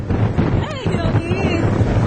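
Steady wind buffeting the microphone, a low continuous rumble and rush, with faint voices murmuring underneath.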